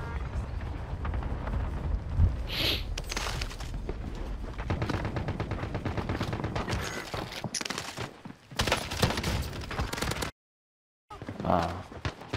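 Rapid bursts of gunfire during a Call of Duty Cold War Warzone match, loud and dense shooting with short gaps and a brief silence near the end, while players talk over it.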